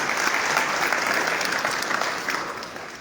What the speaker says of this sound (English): we can clap hands for him.